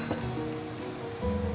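Milk poured into a pot of cooking badshahi khichuri gives off a steady, close sizzling hiss with a splashy, rain-like texture that swells slightly near the end.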